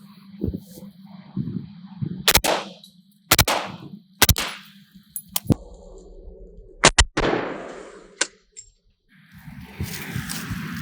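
AR rifle with a KinShot hydraulic buffer and standard carbine spring firing outdoors: several sharp, loud single shots spaced a second or so apart, each with a short decaying tail, amid quieter handling noise.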